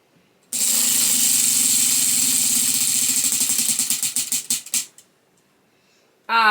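A prize wheel spun for a reading game whirs loudly with rapid clicking that slows into spaced ticks before stopping, followed by a short pause and then a fresh burst of noise at the end.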